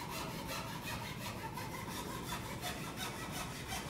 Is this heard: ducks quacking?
no